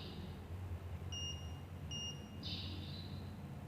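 Faint, thin electronic beeps from a buzzer module sound a few times over a quiet background hiss: two short tones, then a longer buzzy one.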